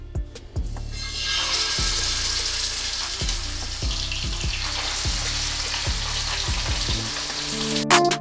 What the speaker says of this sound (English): we are using adequate amount of oil to shallow fry the fish